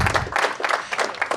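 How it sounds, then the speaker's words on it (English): Audience applause welcoming startup pitch contestants onto a stage, heard as a short burst of hand claps with uneven rhythm over a brief low thump at the start. "Let's give them a big round of applause."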